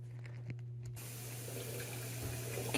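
Water turned back on after quiet clicks, then a steady rushing flow to a water heater and an open faucet, continuous under a low mains hum, with no talking.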